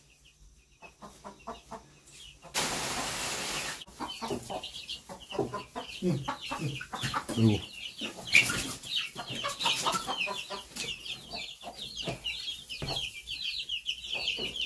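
Chickens and chicks in a rural coop cluck and chirp in a busy, uneven stream at close range, mixed with rustling and flapping, while people talk briefly in the background.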